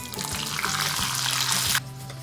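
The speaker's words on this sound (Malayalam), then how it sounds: "അതിനായിട്ട് നമുക്കൊരു പാത്രം ചൂടാക്കി അതിൽ 1-2 ടേബിൾ സ്പൂൺ നെയ്യ് എടുക്കാം. ഇതിൽ കുറച്ച് അണ്ടിപ്പരിപ്പിട്ട് വറുത്തെടുക്കാം." Cashews and raisins fry in one to two tablespoons of hot ghee in a pan, a close, steady sizzle with stirring scrapes that cuts off abruptly near the end.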